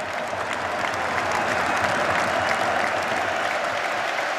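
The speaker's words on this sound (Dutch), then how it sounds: "Het applaus is voor Jelle van Damme, die 10 minuten voor tijd naar de kant wordt gehaald" A stadium crowd at a Standard versus Lierse football match applauds a player being substituted late in the game, a broad, sustained roar of clapping that swells slightly midway and stays loud and even.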